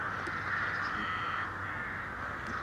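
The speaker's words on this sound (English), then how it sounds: "can hear the birds in the background, I'm certain." Faint birds, crows among them, call in the distance over a steady outdoor hum, quiet and continuous, with nobody speaking.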